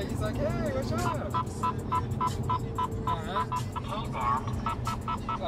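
A Passport radar detector chirps repeated short electronic alert tones inside a moving car, sounding in a regular pulsing pattern over road noise while people talk.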